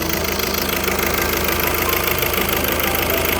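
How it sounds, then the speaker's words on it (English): A car engine with a bad head gasket idles steadily and loudly, with a continuous rumbling drone and rhythmic knocking throughout, no voices. "Engine running."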